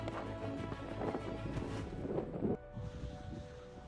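Strong wind buffets a microphone on a mountain pass in the Lake District, a loud rumbling gusty roar that suddenly drops off to a quieter steady blow near the end.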